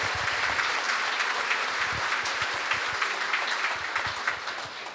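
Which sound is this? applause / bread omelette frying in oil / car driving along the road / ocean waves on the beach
applause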